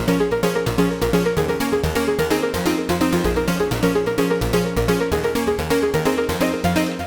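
Elektron Digitone 2 synthesizer playing a Streets of Rage 2 melody with three layered parts, a bright, pulsing, steadily rhythmic electronic line with punchy low notes, loud and continuous.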